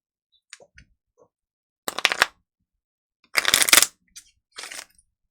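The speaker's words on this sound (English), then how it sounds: "it shuffles better like this" Playing cards shuffled by hand in a few quick riffling bursts, close and crisp, with short pauses and light taps between them and no talking.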